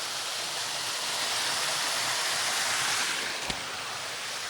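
Creek water rushing near White Oak Falls, a steady, dense broadband wash of flowing water with one brief knock near the end, no voices.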